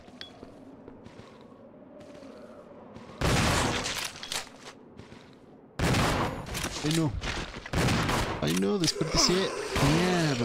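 Shotgun blasts and other gunfire burst out in bursts from the Resident Evil 0 video game, loud sharp bangs with metallic clanks and game effects in between.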